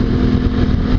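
A Honda Africa Twin motorbike rides along a Yorkshire road, its engine a loud, close, steady drone mixed with wind rush and no voices in a brief burst.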